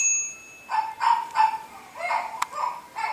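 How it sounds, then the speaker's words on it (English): A small dog gives several short yips and barks in an irregular run, fairly close, with a faint high tone and a brief ding in the background. "I know the dog's still making noise."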